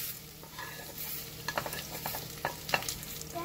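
Coriander seeds frying in a pan with scattered sizzling crackles and a few scraping stirs, faint and close.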